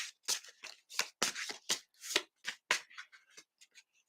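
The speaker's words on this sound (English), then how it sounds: "so as I'm shuffling, this one card keeps popping out at me" A deck of cards being shuffled close up, a rapid series of crisp papery riffles and flicks in irregular bursts, fading to lighter taps toward the end, with no talking.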